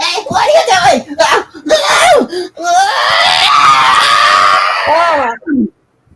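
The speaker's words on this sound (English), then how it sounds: "that sounds like you're screeching too hard" A person screeches loudly and shrilly in a long, strained, wavering cry that rises out of rapid excited vocalizing and ends abruptly.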